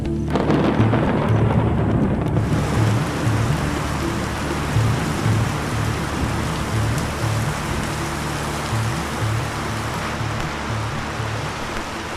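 Heavy, steady monsoon rain pours down in a dense roar in Assam, India, with low thunder rumbling underneath throughout.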